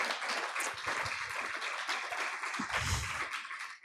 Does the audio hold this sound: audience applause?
yes